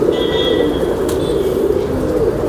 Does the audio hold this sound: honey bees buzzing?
no